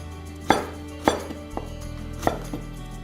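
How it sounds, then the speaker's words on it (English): A knife slices cabbage into a julienne cut on a board, with five crisp chopping thuds at uneven intervals, close and clear, and no talking. "And now we are going to slice it, Jordan, into a julienne cut"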